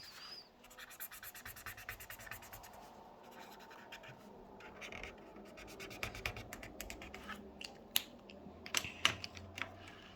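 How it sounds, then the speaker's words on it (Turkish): Pencil coloring in a children's creative coloring picture, steady soft scratching strokes against paper, close and fairly faint, growing a little louder with some sharper scrapes toward the end. "gördüğünüz gibi şurada bu renge boyayacağız"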